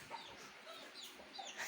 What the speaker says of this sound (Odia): କେଡ଼େ ସୁନ୍ଦର କୁକୁଡ଼ା ଆଜ୍ଞା, ଦେଖନ୍ତୁ